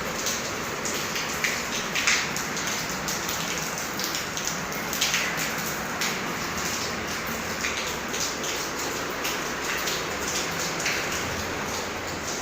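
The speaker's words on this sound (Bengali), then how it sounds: "উপরে ছাদের টিন থেকে পানি পড়তেছে।" Rainwater dripping and pattering from a tin roof during heavy rain, a continuous close wash of falling water with scattered brighter drip impacts throughout.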